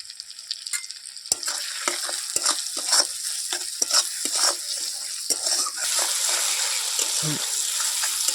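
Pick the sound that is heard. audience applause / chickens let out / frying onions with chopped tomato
frying onions with chopped tomato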